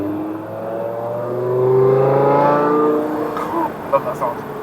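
A modified 550 bhp BMW E60 M5 V10 revs up close, its engine note climbing and holding before dropping away, followed by a few short blips and a brief voice near the end.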